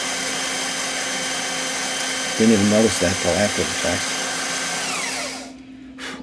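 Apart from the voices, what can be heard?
drilling a phonograph cartridge housing with a power drill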